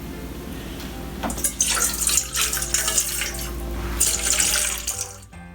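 Water runs steadily into a bowl, a continuous splashing pour that swells and fades, close by, with no voices.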